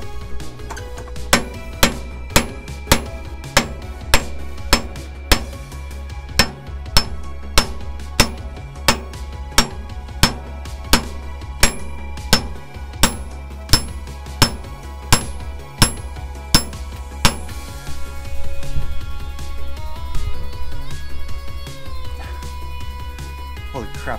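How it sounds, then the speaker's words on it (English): A hammer strikes a Toyota 4Runner or Tacoma driveshaft U-joint repeatedly, roughly once a second with a ringing clang, over a steady low hum, ending in a rougher clattering stretch. "Holy crap, I need a bigger hammer."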